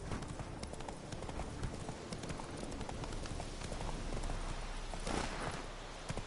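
A horse gallops in The Witcher 3 video game, a quick steady clip-clop of hooves at moderate level running the whole time.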